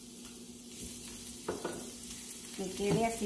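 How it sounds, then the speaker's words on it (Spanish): Finely chopped garlic sizzles and fries in a pan for shrimp tacos, a steady close crackle with stirring scrapes near the end and brief speech over it. "Vertimos el ajito bien picadito, teniendo cuidado de que este ajo no se queme"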